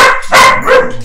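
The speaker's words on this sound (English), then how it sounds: "If you guys ignore the background, dog." A dog barks twice in quick succession, loud and close, each bark a sharp yelping burst with a short gap between them, and no other sound around it.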